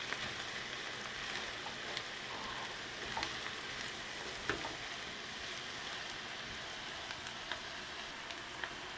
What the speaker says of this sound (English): Now it's time to add the chilies, the garlic and the ginger. And you stir that in for